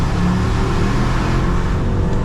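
A 2004 Mercedes E500 rated at 306 hp accelerates hard in second gear, its engine giving a loud, continuous, rising roar from close by with no pauses and no talk.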